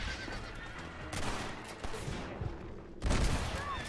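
Gunshots in the video game Red Dead Redemption, a few sharp close shots and a louder burst at the end, mixed with a horse whinnying and hooves clopping.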